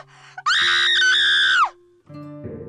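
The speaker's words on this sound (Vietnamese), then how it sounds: "run rẩy rồi hét lên" A woman screams in terror, one long loud sustained shriek lasting over a second, followed by lower voices and tones after it breaks off.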